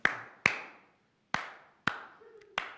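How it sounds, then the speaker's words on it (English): Slow applause: five single loud hand claps spaced irregularly about half a second to nearly a second apart, each ringing briefly in a quiet room. "You do the slow clap for them"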